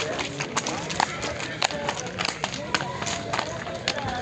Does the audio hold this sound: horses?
yes